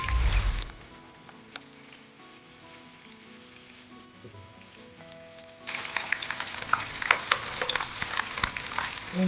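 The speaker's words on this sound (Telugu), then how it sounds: "ఇప్పుడు పన్నీర్ని ఒక సైడ్ ఫ్రై అయిన తర్వాత ఇంకో సైడ్ పెట్టుకున్నాము." Paneer cubes sizzle and fry in a pan, flipped to brown the second side; a steady close crackle that quiets briefly, then swells into brighter, louder spitting and popping.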